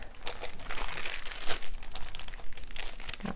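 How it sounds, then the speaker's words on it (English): Crinkling plastic bag handled close by as rolled sausage pinwheel dough is placed inside, a busy run of loud rustles and crunchy crackles with no talk. "I'm going to place it in a plastic bag."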